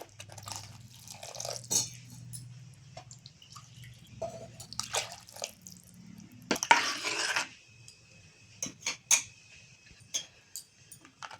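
Water is poured into tomato chutney in a pot and stirred, giving scattered pouring splashes, clinks of a utensil against the metal pot, and soft stirring sounds, all close and fairly quiet.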